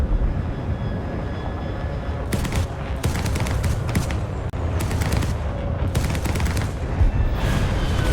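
Bursts of Me 262 30mm Mark 108 cannon fire in the War Thunder video game, short rapid volleys repeating over a constant loud jet engine roar.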